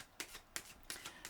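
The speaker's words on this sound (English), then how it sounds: "one more shuffle" Tarot cards being shuffled by hand, quiet and close, with four crisp riffling bursts spaced evenly a third of a second apart.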